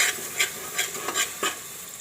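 A curry of green val beans with jaggery is stirred in a pan with a few soft scraping strokes over a gentle, steady sizzle.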